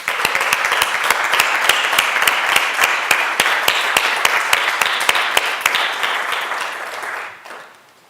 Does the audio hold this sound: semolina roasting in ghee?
no